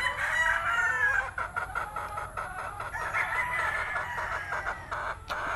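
Chickens kept for breeding crow and cluck nearby, with one loud rooster crow at the start followed by overlapping, irregular clucks and calls from the flock.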